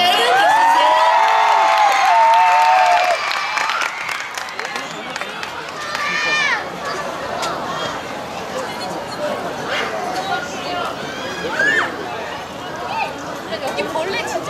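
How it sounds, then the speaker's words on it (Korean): Outdoor festival crowd before an SNSD stage, cheering and whooping with scattered clapping at a distance, a loud announcer voice over the noise at first, then constant crowd murmur and shouts. "여러분 함께 따라 하시면서 큰 박수로 다음 무대를 맞아보도록 하겠습니다"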